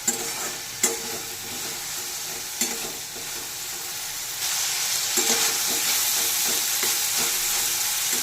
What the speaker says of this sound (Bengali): নেড়ে একটু কষে নেব